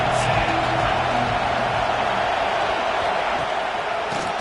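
A college football stadium crowd roars during a big third-down defensive stand, a dense, loud, unbroken wash of cheering that fills the whole moment without letting up.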